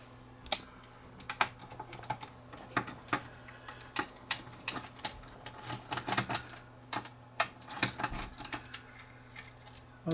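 Large Phillips screws are worked out of a Toshiba W704 during a mechanical service, a series of small sharp clicks and ticks coming irregularly, close and fairly quiet over a steady low hum.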